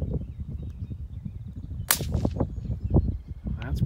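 A single suppressed gunshot fired with Remington subsonic ammunition cracks sharply at an outdoor range, a quiet snap followed by faint scattered noise and a distant impact.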